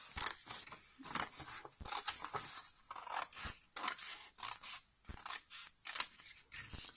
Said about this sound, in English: I'm going to use the scissors to cut it in half.